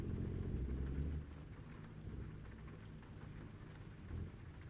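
Steady rain falls during a truck drive in American Truck Simulator, a continuous wash of patter with a low rumbling undertone that is louder for the first second and then settles into an even, moderate hiss.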